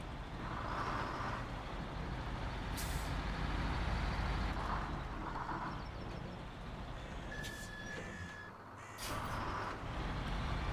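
A heavy truck in the SnowRunner driving game rumbles steadily with engine drone, reversing beeps and short hissing bursts of air brakes standing out above the low, continuous noise.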